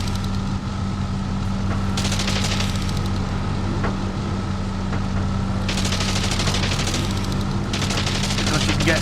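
Sustained machine-gun fire from a WWI biplane strafing a ground target in Wings! Remastered, loud rattling bursts over steady engine drone, with denser volleys around a few seconds in and again near the end.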